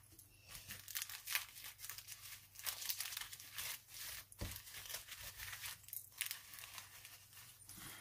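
Paper tears and crinkles steadily as a gift wrapped in a pretty paper napkin and stuck with tape is pulled open, a close, quiet rustle with small rips and no speech.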